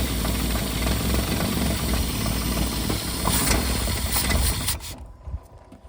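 A 1955 International R160 dump truck engine runs at a steady, rough idle with a loud, knocking low rumble, choke wide open, before the sound drops away near the end.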